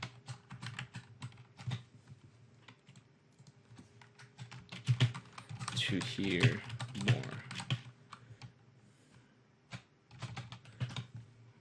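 Rapid clicking on a computer keyboard in short bursts with pauses, close and fairly quiet, while a person speaks over part of it.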